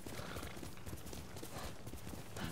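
In the video game Ghost of Tsushima, a horse's hooves clop in a busy, continuous rhythm over a faint, noisy background, with hints of snorting or neighing. The sound is fairly quiet and has no clear speech.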